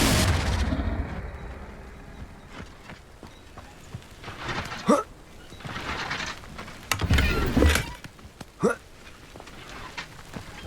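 Confringo fire-spell blasts in Hogwarts Legacy, several sharp bursts scattered unevenly across the stretch with quieter game ambience between them.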